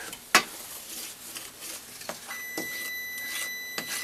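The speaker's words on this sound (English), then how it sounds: "Now I'm going to cook this, just the butter and the flour, for a good 3 minutes here on my low heat." Butter and flour cook in a pan on low heat with a soft, steady sizzle, broken by a sharp clatter near the start and a few light utensil scrapes and taps.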